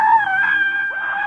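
A single long, high-pitched human scream rings out loud and close, sustained with a wavering pitch that briefly dips near the end; part of a Brooklyn scream-release gathering.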